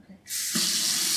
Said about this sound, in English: Look, I turned the water shower.